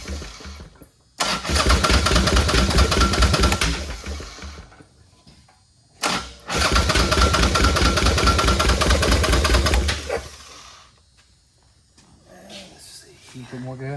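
A 1967 Chevy van's engine cranks and catches twice, roaring loudly and steadily up close for a few seconds each time before cutting out, with people talking around it.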